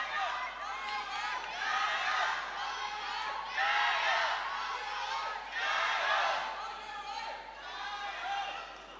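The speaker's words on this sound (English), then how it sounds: "I can't see everybody who's cheering, but it sounds like a pretty good percentage of the crowd" A large crowd at a women's table tennis quarterfinal cheers and shouts in rolling waves, swelling and easing several times at a moderate distance.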